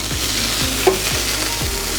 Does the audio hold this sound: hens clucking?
no